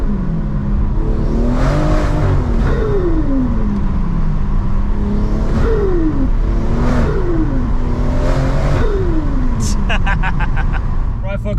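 A stage 3 BMW M140i hot hatch driving in Sport Plus, its engine repeatedly revving up and dropping back with turbo whoosh and a brief chatter near the end, loud and close from inside, with someone talking over it.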